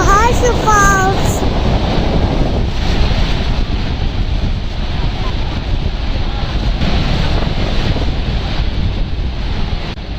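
Niagara's Horseshoe Falls roar as a dense, continuous wash of water noise heard from a viewing spot, mixed with heavy wind buffeting the microphone and a brief faint voice near the start.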